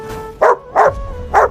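A dog gives three sharp, close barks, evenly spaced, over a faint steady tonal background, with no talking.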